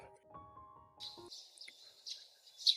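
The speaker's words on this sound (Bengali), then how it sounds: "নানান ধরনের পাখি যখন একসঙ্গে ডাকাডাকি করতে থাকে" Birds chirp together in short, bright bursts as a sound effect in a Bengali audiobook, entering after a brief tonal opening and continuing as a fairly close chorus of separate calls.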